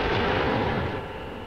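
Cannon fire in the Serious Sam: The First Encounter video game, a loud, dense, roaring blast that fills the moment and then begins to decay, with no talking.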